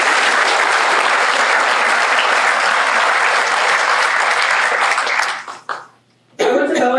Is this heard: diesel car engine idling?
no